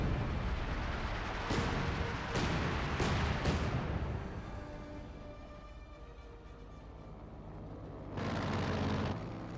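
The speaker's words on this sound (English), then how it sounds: "We do now have the light artillery barrage hitting the Bofers as well." A light artillery barrage in the strategy game Company of Heroes 2, heard as a quick string of four sharp, booming impacts, then a rumbling fade and another heavy burst near the end, with no talking.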